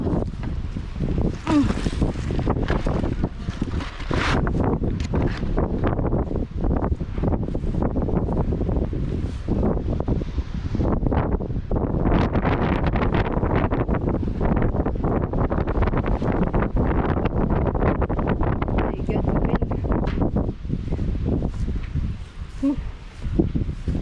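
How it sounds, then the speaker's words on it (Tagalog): Strong wind buffeting a microphone outdoors in a front yard, producing a constant loud rumbling roar throughout, with occasional faint talk underneath. "So windy guys"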